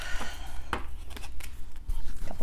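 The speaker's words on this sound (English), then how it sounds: "Couple more shuffles." Someone shuffles a deck of cards during a spiritual card reading, producing quick papery flicks and snaps in short irregular bursts. The sound is moderately close, with no talking.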